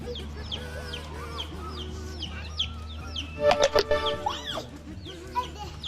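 Many high, thin chirping peeps repeat throughout, with a short burst of louder clucking in the middle over a steady low hum.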